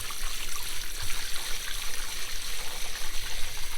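Water poured into a soapy box used for cleaning grill grates, a steady close splashing and trickling that runs throughout at fairly loud level with no talk.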